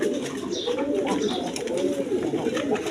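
A pair of white-beaked Bombay pigeons coo continuously up close, with low rolling calls repeating in steady waves amid a busy loft.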